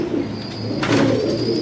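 Faqeer Gul pigeon cooing close by, a soft low rolling coo that swells midway and continues over a steady background, with no talking.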